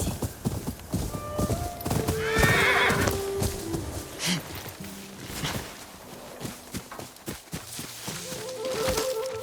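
Horses in a stable in the video game Ghost of Yotei: a neigh and whinny rings out amid repeated clip-clop hoof steps on hard ground, fairly close, with game ambience and no talk.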